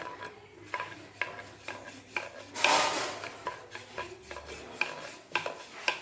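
Dough rubbed and rolled by hand into a long strand on a floured wooden rolling board, for a sweet Ganesh offering: soft, rhythmic rasping strokes repeating steadily, close and fairly quiet, with no voices.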